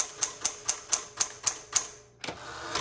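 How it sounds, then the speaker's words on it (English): Typing on a 1960s Galaxie II typewriter repainted cherry red: seven crisp, evenly spaced keystrikes close up, a short pause, then another strike, with no talking. "Man, this one is like a go-getter typewriter."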